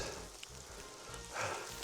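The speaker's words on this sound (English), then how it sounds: "It's raining a lot." Rain falls steadily on a 1.4-hectare farm in Central Portugal, a soft, even hiss with faint patters, heard quietly and alone.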